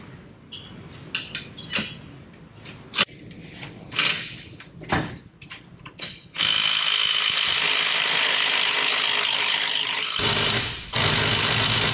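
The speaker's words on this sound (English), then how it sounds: "Needs a wrench." A ratchet wrench clicks in short, uneven bursts while working on a 1969 Volkswagen Beetle chassis. It then gives way to a sustained loud mechanical whir with a brief pause near the end.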